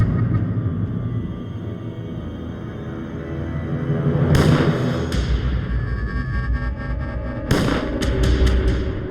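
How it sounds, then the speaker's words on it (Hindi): Gunfire in a dramatized scene, with two sharp, echoing bursts around four and seven seconds rising over a steady background of music and rumble. "प्रभु गोलियां चलने की आवाज।"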